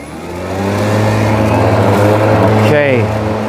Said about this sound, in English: Let's engage the motor.